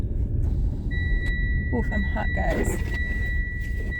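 A car's seatbelt warning chimes as a steady high electronic tone that repeats, heard over road rumble inside the moving vehicle in Maine woods while a person speaks briefly.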